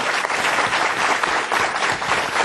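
Audience applause at the end of a policy debate: dense, sustained clapping from a full room, steady and fairly loud throughout.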